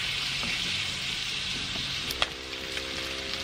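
Pork belly frying in a pan as its fat renders, a steady close sizzle throughout with a few sharp pops and light clinks of stirring near the end.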